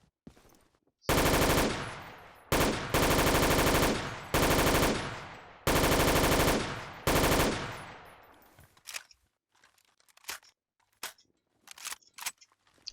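MG36 light machine gun from a Battlefield 2 mod, loud sustained bursts of rapid automatic fire in several long strings, then scattered sharp mechanical clicks and clatter of reloading, with no voices.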